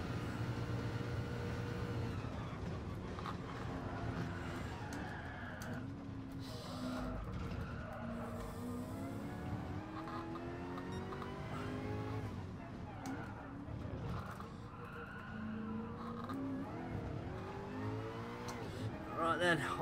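A car in the racing game GT Sport accelerates hard on a long straight, its engine note rising through the gears in repeated climbing sweeps, loud and continuous while someone talks over it.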